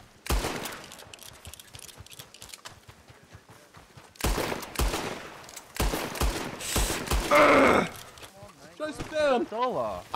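Gunfire in a Red Dead Redemption roleplay game, bursts of rapid shots crackling in several loud volleys, with game sounds and a short ringing tone near the end.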